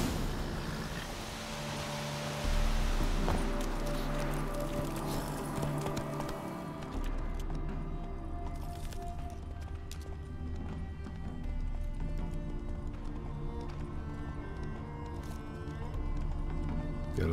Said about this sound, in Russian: Кажется, конь захромал.